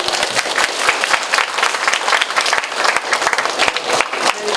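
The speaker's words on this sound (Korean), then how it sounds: "우리 학생들 크게 박수." Students at Kwangwoon University applaud loudly and steadily at the close of a video-call special lecture, a dense wash of many hands clapping without a break.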